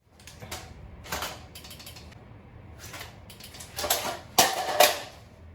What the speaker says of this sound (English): We'll get some quick dry fire reps in just so you guys can like see everything in motion and see how it operates